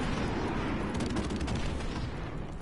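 Airstrike explosions in Modern Warfare Remastered roll as a continuous, dense rumble of blasts and crackling impacts, steady and fairly loud with no voices over it.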